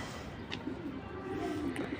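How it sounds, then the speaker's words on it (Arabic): Pigeons coo softly in a loft, a low steady murmur of calls running through the clip with a couple of faint higher chirps, close and moderately quiet. "شوية الحمام اللي هنا البولا دول"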